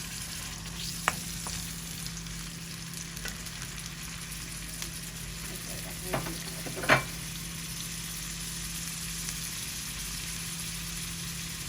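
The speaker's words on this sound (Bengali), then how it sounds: "চিংড়ি মাছটা বন্ধুরা বাজা বাজা হয়ে গেছে এখন তেল রসুন আর চিংড়ি মাছ" Prawns fry in hot oil with garlic and onion, a steady close sizzle running throughout with a few stirring clicks and scrapes, and no talking.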